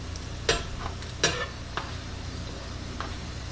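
Potato tostadas frying in a pan, a soft, steady background sizzle with a few sharp scraping taps from a utensil spaced through it, fairly quiet and close, with no talking.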